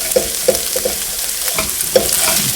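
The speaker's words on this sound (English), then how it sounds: "just the final deglazing" A pan of sausages sizzles and hisses as it is deglazed, with several soft clinks of a utensil scraping and stirring close by, no voices.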